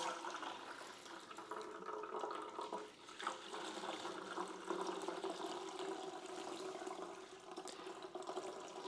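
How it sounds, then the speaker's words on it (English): Hot bone broth poured slowly through cheesecloth into a plastic container makes a steady, continuous liquid trickle and splash, close by, lasting throughout without talk. "I'm just going to slowly pour it through the cheesecloth into this plastic container"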